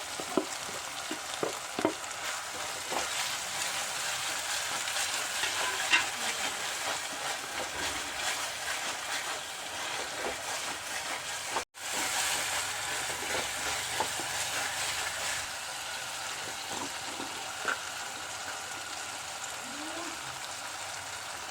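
Chopped tomato sizzling in a pan over ginger-garlic paste for an Onam sadhya masala curry; a steady, close frying hiss runs throughout with light scraping clicks, a brief dropout near the middle, and no talk.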